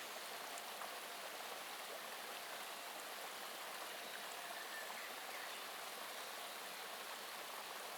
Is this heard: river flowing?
yes